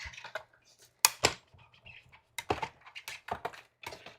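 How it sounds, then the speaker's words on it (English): A die cutting machine running a paper banner for a Valentine card makes a string of sharp, close clicks and short ratcheting bursts, irregularly spaced and fairly quiet, with no talking. "I'm going to die cut this banner real quick"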